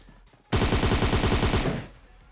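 Automatic gunfire in the mobile battle royale game PUBG Mobile: a loud, dense rapid burst of shots lasting about a second, starting abruptly and then cutting off.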